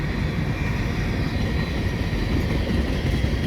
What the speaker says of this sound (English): here's the end of the train on the CN side, heading through Dorval